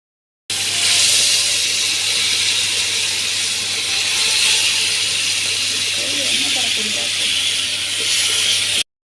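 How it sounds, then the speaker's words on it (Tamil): Loud, steady sizzling of fish frying in hot oil, a continuous crackling hiss that runs unbroken for several seconds, with faint voices underneath. "நம்ம மீன் வறுத்துக்கலாம்."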